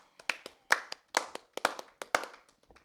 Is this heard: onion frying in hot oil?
no